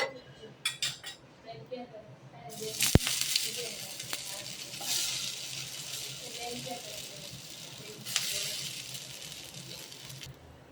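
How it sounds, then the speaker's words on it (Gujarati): Snacks shallow frying in oil on a griddle, a steady soft sizzle under occasional clinks of utensils and a person talking. "તેલ લગાડી અને લાઇટ બ્રાઉન શેકી લેશું."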